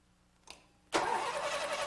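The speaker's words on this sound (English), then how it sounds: "When that's done, have someone crank the engine." Car engine cranked during a spark ignition test on a 1980s Ford: a brief faint click, then a sudden loud, steady broadband roar of cranking or catching that continues without talk.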